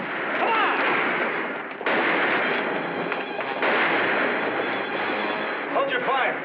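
Gunfire in a western TV episode bursts out in a loud, dense, continuous mix, with shots blending into a booming soundtrack and raised voices.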